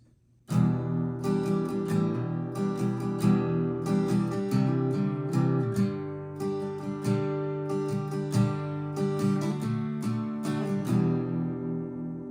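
Guitar playing the intro of a song in an open tuning, steady strummed and picked chords with a rhythmic pulse, fairly quiet and close, with no voices.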